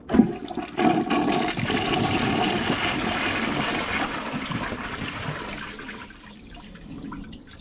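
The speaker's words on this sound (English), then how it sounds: "Round toilets tend to not like bags, but this one has a pretty strong flush and siphoning power." A 2006 Mansfield Alto round-bowl toilet flushes with a bag in it, a sharp initial whoosh followed by a sustained rushing swirl of water that gradually tapers into a quieter trickle as the tank refills.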